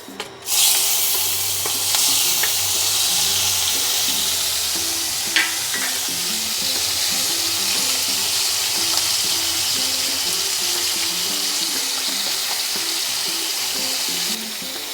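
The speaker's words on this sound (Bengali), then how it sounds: "এবার এর মধ্যে আমি দিয়ে দেবো এই চিংড়ি মাছগুলো।" Prawns fry in hot oil with dried red chillies while pumpkin greens with mustard prawns are being cooked. A loud, continuous sizzle runs throughout with occasional stirring scrapes and clinks, and there is no talk.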